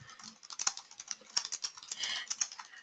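Computer keyboard being typed on at a quick, uneven pace, soft clicky keystrokes close to the microphone, quiet and with no talk.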